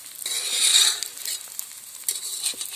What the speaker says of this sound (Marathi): 1-2 मिनिटांनी परतायचे.